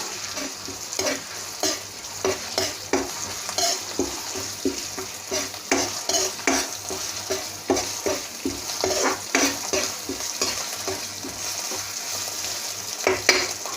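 Southern Thai red curry paste stir-fries with coconut milk for a spicy mussel curry, a loud, close, rhythmic series of spatula scrapes against the pan over a constant sizzle, with no voices.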